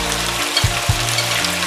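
Fish and shrimp frying with flat rice noodles in a hot wok, a loud continuous sizzle under a low droning hum, with a couple of brief thumps as pieces go in, close and without talking.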